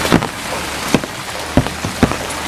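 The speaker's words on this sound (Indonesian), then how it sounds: "Hujan lagi." Rain falls steadily outdoors with a broad hiss, punctuated by several sharper drip or splash hits on a surface scattered through the stretch.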